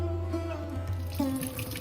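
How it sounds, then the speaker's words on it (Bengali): Fresh fruits are rinsed under a running kitchen tap, a steady close hiss of flowing water with a low hum beneath it and no talk. "ফলগুলোকে ভালো করে ধুয়ে নিচ্ছি।"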